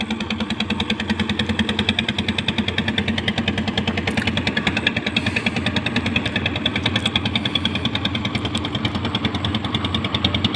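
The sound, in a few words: trawler boat engine passing on the river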